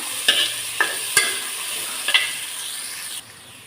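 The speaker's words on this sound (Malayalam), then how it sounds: "ഇതിലേക്ക് രണ്ട് തക്കാളി കട്ട് ചെയ്ത് ചേർത്ത് കൊടുക്കുന്നുണ്ട് നന്നായി ഇളക്കി കൊടുക്കാം" Cut tomatoes stirred in a pan with ginger and curry leaves, a soft hiss of frying under a few sharp scrapes of the spoon, the sizzle dropping away abruptly near the end.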